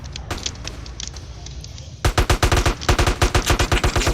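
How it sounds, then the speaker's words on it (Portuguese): Gunfire in a GTA RP (MTA) video game session, scattered shots at first, then loud rapid automatic bursts, with a faint voice in the background. "Tá atirando em mim, mano."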